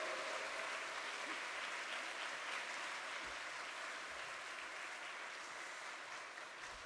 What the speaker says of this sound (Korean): 그러면 와 하고 할렐루야 하면서 박수해 주시는 겁니다